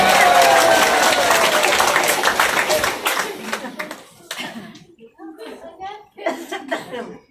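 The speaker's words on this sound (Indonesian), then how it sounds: "Kita tepuk tangan." An audience at a 50th golden wedding anniversary celebration claps loudly together at first, then the applause thins into scattered claps mixed with voices and chatter as it dies down.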